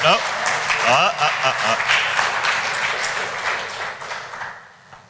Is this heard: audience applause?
yes